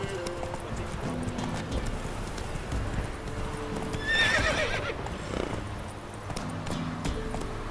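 Roach the horse gallops in The Witcher 3: rapid hoofbeats drum steadily throughout, with a whinny partway through, set against game music and ambient sound.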